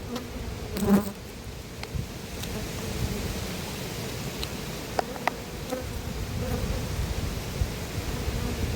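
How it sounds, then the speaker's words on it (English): Honey bees buzzing steadily close by in an apiary hive, a dense low hum with a brief louder buzz near the start, no voices. "There's a few bees in there investigating"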